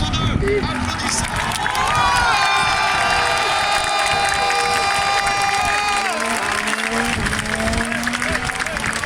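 Grandstand crowd at the 2022 French Grand Prix at Circuit Paul Ricard cheers, whoops and claps for the pole-sitter, a loud, dense roar with whistles and shouts that swells and holds for several seconds as a voice booms over it.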